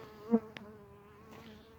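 A steady bee buzz hums faintly through the clip around fava bean plants, with a brief louder drone near the start and a small click midway.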